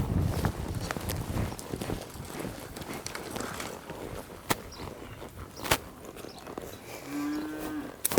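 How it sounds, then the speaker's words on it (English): Cattle moo in a working herd, one low drawn-out call near the end, over clip-clopping hooves, shuffling and scattered knocks out in the open. "You got cattle everywhere."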